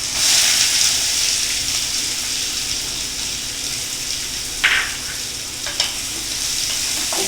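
Cinnamon pieces, cumin seeds and finely chopped onions fry in ghee with a steady, loud sizzle, broken by a couple of brief stirring scrapes.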